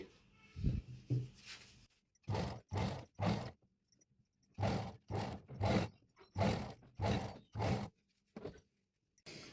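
Sewing machine stitching frills around a layer of a child's lehenga, running in short repeated bursts of rapid mechanical clatter separated by brief pauses, close and fairly loud.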